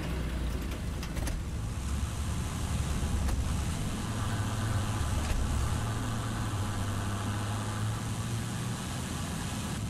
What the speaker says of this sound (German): Der Half-Track fährt mal 33 km/h.